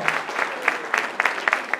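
A church congregation claps along in praise during a Spanish-language worship service, a steady run of sharp, fairly close handclaps in a rhythmic pattern lasting under two seconds, with no voices standing out.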